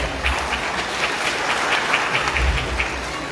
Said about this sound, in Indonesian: Tepuk tangan untuk Bupati kita.